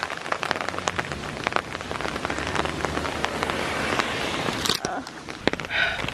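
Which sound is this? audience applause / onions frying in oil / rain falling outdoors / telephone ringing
rain falling outdoors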